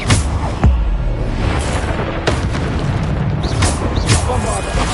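A Bombarda explosion spell from the Hogwarts Legacy game booms loudly, with a few heavy blasts spread across the moment, mixed in with game effects and a voice.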